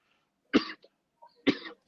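Two sharp coughs about a second apart, close by, with quiet between them.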